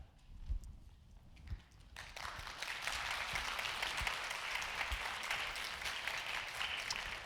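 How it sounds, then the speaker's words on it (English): An audience at the 92nd Street Y applauds after a talk on language development in young children; after about two quiet seconds, sustained clapping breaks out and continues evenly to the end. "That was real applause?"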